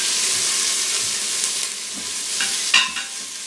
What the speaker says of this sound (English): I love the smell of onions cooking